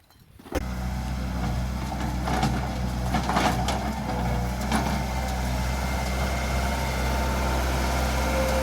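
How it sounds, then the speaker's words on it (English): A skid steer loader engine starts up and settles into a loud, steady, low rumbling idle close by, running continuously with no break. "I'm gonna go get the skid steer."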